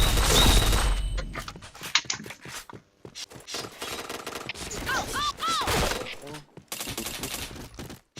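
Rapid bursts of automatic gunfire in the video game Point Blank come in several loud volleys separated by short gaps, with a voice talking between them and some chirping game effects in the middle.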